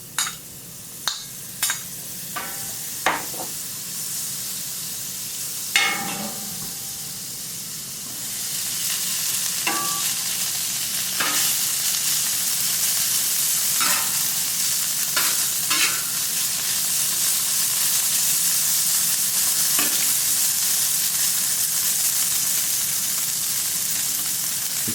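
Butter and hash browns fry on a Camp Chef FTG600 flat top grill, opening with several sharp scraping clanks of a spatula before a steady, loud sizzle settles in with occasional scrapes.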